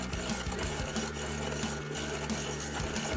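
Wood lathe turning an out-of-round red oak bowl blank, the gouge hitting the spinning wood in a rapid, continuous rattling chatter over the motor's steady hum.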